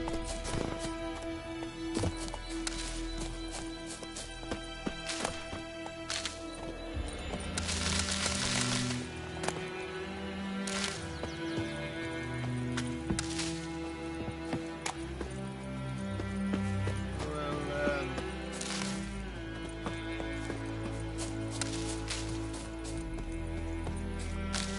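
The horse Roach galloping in The Witcher, a steady rhythmic clip-clop of hooves running on and on beneath a soundtrack and ambient game sounds.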